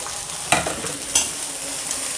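Chicken and vegetables frying in a pan give a steady, close sizzle, broken twice by sharp stirring knocks against the pan.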